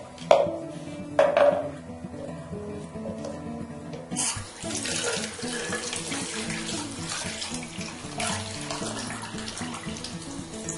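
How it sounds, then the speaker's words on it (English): A tap runs while someone washes their hands, the water hissing and splashing steadily into a sink, with a few sharp clinks and knocks of a cup being filled beneath the stream. "now I'm going to wash my hands and collect the water in this cup."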